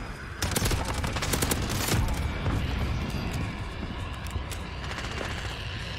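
A Bizon submachine gun fires in Modern Warfare multiplayer: rapid sustained bursts of loud, close automatic fire, easing to a softer stretch and then more shots, with background game ambience.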